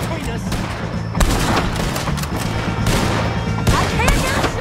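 Gunfire in a Red Dead Redemption 2 shootout against the O'Driscolls: loud, rapid overlapping shots and cracks in dense bursts, with shouting voices mixed in.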